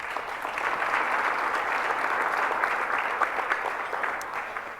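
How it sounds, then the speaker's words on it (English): A conference audience at the Toronto Global Forum 2019 applauds Joe Clark, with dense, steady clapping that holds for several seconds and then tapers slightly. "A big round of applause for Joe Clark"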